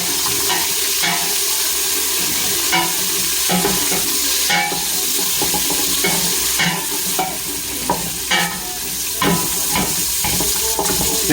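Bacon fries crisp in a pan, crackling and spitting loudly and continuously up close, with repeated scraping and knocking of a utensil as it gets stirred.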